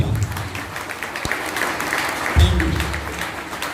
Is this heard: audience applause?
yes